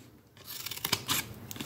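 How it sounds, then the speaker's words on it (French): Scissors snip through paper in a quick run of crisp, close cuts, each a short bright crunch, with no talking. "parce que celui-là, quand je coupe mes papiers,"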